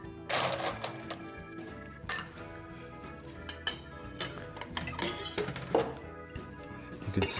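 Ice cubes clinking and clattering into a large mug while a citrus vodka lemonade cocktail is assembled, a few close, bright glassy knocks over steady background music.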